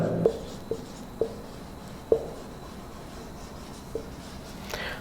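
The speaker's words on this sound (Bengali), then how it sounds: "তারপর আরেকটা আমি তোমাদের জন্য এক্সাম্পল লিখে দিচ্ছি" Chalk or marker writing English grammar examples on a board in a classroom: a few short, sharp taps and strokes spaced out over a quiet background, faint and close, no voices.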